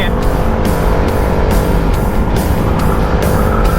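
Motorcycles, including a Yamaha Sniper 150 and Kawasaki Ninja 400, overtaking on an open road, a loud continuous engine roar with wind rush, close and steady with rhythmic surges throughout.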